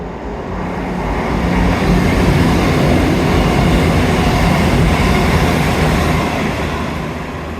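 A train rumbles loudly and steadily nearby, its noise swelling and then easing slightly, with no voices.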